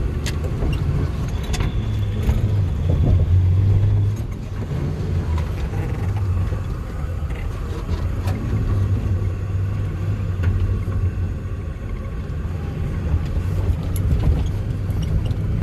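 A 2001 Ford F450 truck with a V10 engine and 5-speed transmission rumbles steadily while driving through gear shifts, a low continuous engine drone heard from inside the cab with slight swells in loudness.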